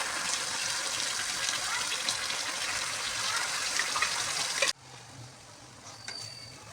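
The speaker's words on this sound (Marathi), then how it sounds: "आता हाय फ्लेम करून घेऊया आणि वाटण केलेला मसाला यात सोडूया" Ground masala paste hitting a hot pan on high flame for anda masala, a loud broad sizzle and stirring that cuts off abruptly near the end, leaving quieter bubbling.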